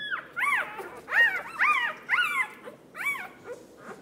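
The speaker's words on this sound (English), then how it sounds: "The little squeaky noise that they make." Young puppies, stray rescue litter with their mother nearby, give a run of high, thin squeaks and whimpers, several short rising-falling cries in quick succession, close to the microphone with no talk.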